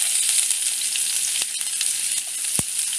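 Onion frying in hot oil in a kadhai, a steady bright sizzle with a few sharp pops and spatters near the end, close and continuous with no talk.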